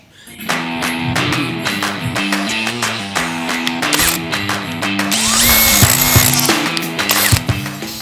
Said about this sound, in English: Our drill bits were absolutely getting destroyed trying to drill